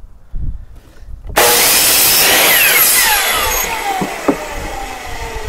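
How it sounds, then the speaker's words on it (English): A power saw rips through a wooden board for a farmhouse-style box. A short rumble comes first, then a loud, sustained, harsh whine close by with a shifting pitch and a brief thump near the end. "Again, I apologize for the noise of the saw."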